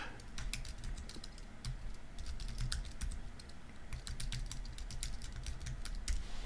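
Fingers tap out an email address on a computer keyboard in quick, uneven bursts of close, soft clicks, with short pauses and no talking.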